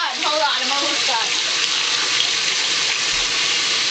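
Tap water runs steadily and close while dyed hair is rinsed, a constant rushing hiss with a person talking over it at the start.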